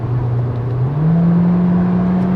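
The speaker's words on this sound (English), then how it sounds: "इतना engine noise, ऐसी engine note आपको cabin में सुनाई देगी, especially when you are at higher revs." Inside the cabin of a 2022 Skoda Slavia Style 1.5 TSI with DSG gearbox, a loud, steady engine drone rising in pitch as revs climb, then holding high, with no talking.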